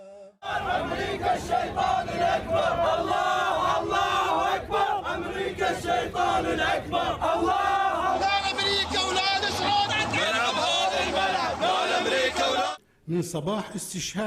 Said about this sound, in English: crowds demanding death at the gates